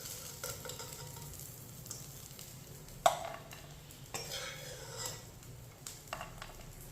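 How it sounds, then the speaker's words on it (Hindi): Dry fruits stirred and roasting in a pan over a low flame, a soft steady sizzle with occasional scrapes and clinks of a spoon against the pan. "कम आंच पे मैंने इसे 2 मिनट के लिए भून लिया।"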